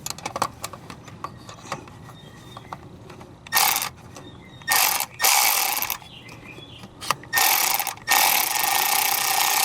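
Ratchet wrench working on a Ford 6.0 Powerstroke diesel engine, with low mechanical clicking bursts in an irregular rhythm and several louder broadband bursts of shop noise, close by and with no talk.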